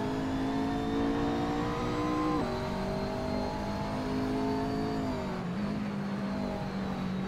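Nissan and McLaren race cars in a sim GT racing game at Mugello, engines whining loud and close, with two clear gear-shift drops in pitch before the tone climbs again, unbroken by any voices.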